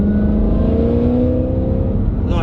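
An 800 bhp supercharged Ford Mustang roars close up, its engine note climbing under load, then dipping and rising again as it shifts into second gear, loud and continuous throughout.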